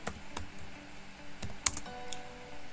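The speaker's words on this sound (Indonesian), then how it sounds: "Teman-teman silakan ketik nama tokonya" Someone typing on a computer keyboard, a few soft, close key taps in short irregular bursts over quiet room tone.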